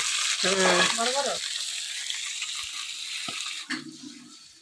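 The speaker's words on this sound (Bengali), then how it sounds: "তেল দিতে পুটি মাছগুলো ভেজে নেব" Puti fish sizzle and crackle as they fry in hot oil, a steady close hiss running throughout with a brief voice and a few knocks of water or utensils layered over it.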